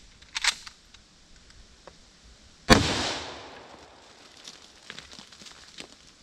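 A single sharp outdoor gunshot from old ammunition left outside cracks loudly and rings out with a long decaying tail, preceded by a fainter earlier pop and followed by quiet background rustling.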